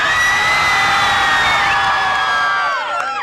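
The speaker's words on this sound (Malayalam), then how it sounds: "അനീഷ് ആവർത്തിച്ചത് ആൾക്കൂട്ടത്തെ ആവേശഭരിതരാക്കി" Crowd at a homecoming reception cheering and whooping in a loud, sustained roar with high shrill voices throughout, tapering slightly near the end.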